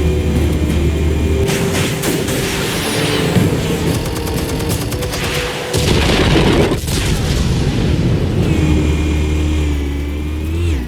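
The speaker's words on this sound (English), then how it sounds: "Explosives armed. Fire when ready." Explosives detonating in the Batman: The Telltale Series video game: loud, heavy booming blasts with a deep rumble and roaring, engine-like swells that sweep through about eleven seconds of dense, continuous game sound.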